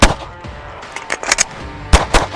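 Shadow Systems MR920 pistol fired in quick strings of sharp, loud shots at close range, with a short pause for a reload before two more bursts.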